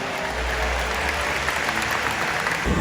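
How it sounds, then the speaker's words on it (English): A stadium audience at a killer whale show in San Antonio applauds its volunteers, a broad, even wash of clapping from many people that holds steady throughout with a low rumble beneath. "let's give both of our volunteers a round of applause"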